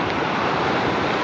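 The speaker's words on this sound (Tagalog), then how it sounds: "Ayun, laki ng alon no!" Big ocean waves crashing at the shore during a fishing and camping trip in General Nakar, a steady broadband roar of surf with wind buffeting the microphone, loud and continuous.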